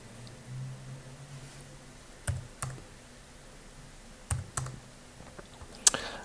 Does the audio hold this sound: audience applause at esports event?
no